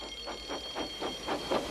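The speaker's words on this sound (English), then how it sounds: "Soon came the alarm." A railway alarm rings out for the breakdown train in a Thomas the Tank Engine story, a steady high electric bell pulsing in even bursts about every quarter second, fairly faint with no voices.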